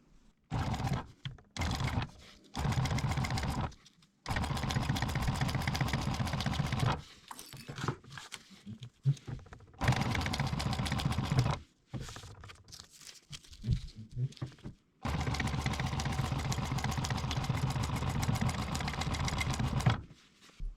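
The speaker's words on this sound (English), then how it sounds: "Now we're going to stitch this U shape here." Sewing machine stitching a U shape on a shear holder with MOLLE webbing, running in rapid whirring bursts of a few seconds each, separated by short pauses, close and fairly quiet.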